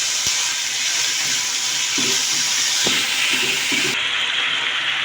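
Chicken frying in a pan with ginger, garlic, turmeric and salt, a steady bright sizzle that holds loud throughout, with a few soft scrapes of stirring underneath.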